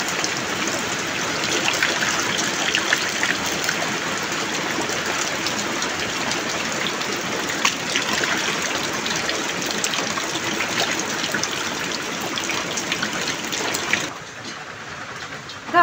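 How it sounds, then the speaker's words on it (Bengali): Water runs and splashes steadily while cow tripe is washed clean with rainwater, a close, continuous broadband rush that holds nearly constant for about fourteen seconds before dropping off abruptly. "এখন আমরা বৃষ্টির পানিটা সুন্দর করে পরিষ্কার করে ধুয়ে নিচ্ছি।"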